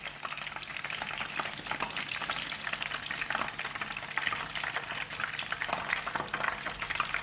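Kebabs fry in oil with a dense, continuous crackling sizzle and bubbling, close and even in level from start to finish with no talking.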